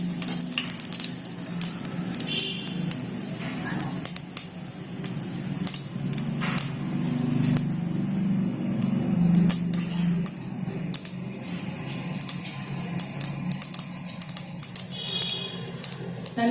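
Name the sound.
mustard seeds spluttering in hot oil in pressure cooker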